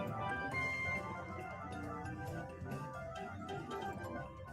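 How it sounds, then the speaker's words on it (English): Underwater teacup ride music from the Water Park track in Mario Kart 8, a cheerful merry-go-round style video game tune with dense layered melody and steady accompaniment, playing on its own without talk. "the game's composers reused Big Boo's merry-go-round theme for the underwater teacup ride"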